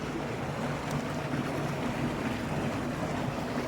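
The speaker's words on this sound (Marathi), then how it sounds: "पाण्याचा आवाज बघा येतोय" Stream water rushes steadily and broadly during net fishing, a constant close wash with no pauses.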